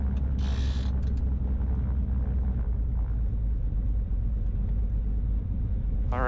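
A twin-engine Cessna powers through its takeoff roll, a loud, steady low rumble and drone filling the whole stretch with a brief higher whine near the start.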